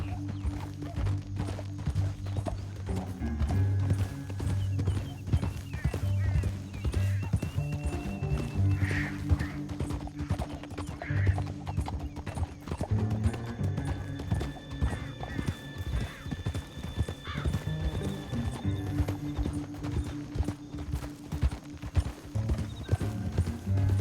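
Horse hooves gallop in Red Dead Redemption 2, a steady rhythmic clip-clop that runs the whole way with a neigh or two, under a layer of tonal game sound.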